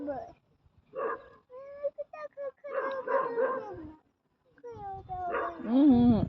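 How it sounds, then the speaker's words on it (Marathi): A dog barks and yelps close by, ending in a whining, rising cry, while people talk loudly over it. "अंगावर येते ती कुत्री."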